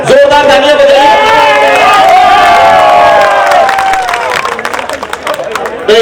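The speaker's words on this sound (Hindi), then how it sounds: "जोरदार तालियां बजाइए" A mushaira crowd in Govandi cheers and claps to welcome poet Johar Kanpuri, loud, close, and dense, with sustained vocal shouts and calls over the applause before it breaks into scattered claps and chatter.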